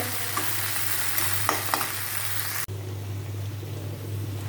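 Vegetable bhaji frying in a pan, a loud steady sizzle over a low hum, with a few light clicks of stirring before the sizzle suddenly drops to a quieter level.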